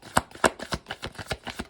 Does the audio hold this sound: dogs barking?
no